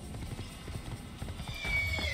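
Rhythmic hoofbeats of a galloping horse in the video game Assassin's Creed, close and fairly steady, with a brief high whinny near the end.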